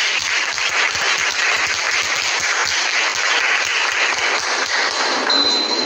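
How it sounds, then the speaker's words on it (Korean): A crowd applauding at an outdoor rally, dense sustained clapping that stays steady and fairly loud throughout, with a faint tone briefly near the end. "다시 한번 박수로 맞이해주십시오"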